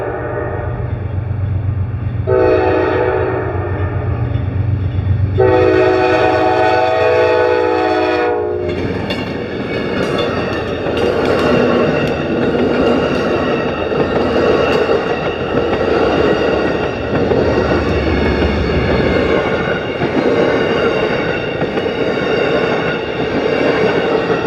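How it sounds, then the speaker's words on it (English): An Amtrak P32-8BWH Dash 8 locomotive leads the Cardinal passenger train from Chicago at night, sounding loud horn blasts. The roar of the passing train follows, with steady rumble and rail clatter close by. "That's Amtrak's Cardinal train number 50 from Chicago"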